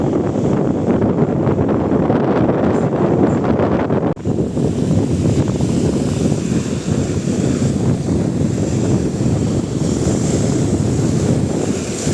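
Loud surf roars continuously up close, with gusts of wind buffeting the microphone, then a dip and a steady rush of breaking water.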